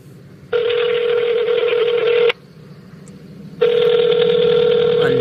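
Telephone keypad tones from a phone redialing someone, two long loud steady tone bursts separated by a short gap of quiet line hiss, close and clear with no talking.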